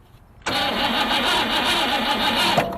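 A 1966 Ford Mustang engine, off the road for over thirty years, cranks and tries to start, a sudden loud churning burst that holds steady for about two seconds before cutting off, with no voices.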